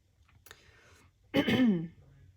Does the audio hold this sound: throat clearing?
yes